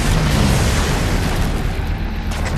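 Plasma stockpiles blowing up in the Halo 4 video game, a loud, dense rumbling explosion that booms at once and slowly rolls off, heard alone without speech.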